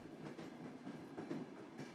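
A train on the West Highland Line in Scotland, heard from inside a carriage as a faint, steady rumble with soft rhythmic clicking of wheels over rail joints.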